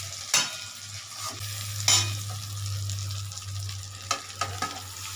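Cauliflower florets tipped into masala frying in a pan over lowered heat, with a steady sizzle broken by a few sharp stirring scrapes and clatters, close and alone without talk.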